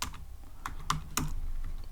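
Close, crisp keystrokes on a computer keyboard while Python code is typed, several distinct taps in an uneven rhythm over two seconds with no talking.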